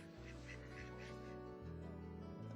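Ducks quacking at a seabird rescue pool where injured and sick birds are kept, a low steady run of nasal calls close by with a constant background hum.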